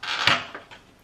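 A tiny cardboard door on a stationery advent calendar is opened: a short close papery scrape and tear followed by a couple of faint rustles, quick and quiet.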